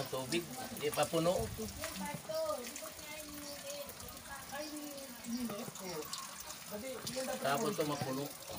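Water from a tap filling a container for laundry, a continuous gushing flow heard under a woman's speech.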